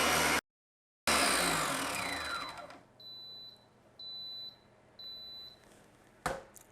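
A stand mixer whips macaron meringue toward stiff peaks, a loud steady whir that cuts off briefly, resumes, then fades, followed by three evenly spaced electronic beeps and a short clack.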